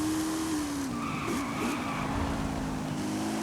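Sports car in Forza Horizon 5 driven in 7th gear, engine note held high, then sliding around as gears shift, with tire skid and squeal and a steady, close, loud roar throughout.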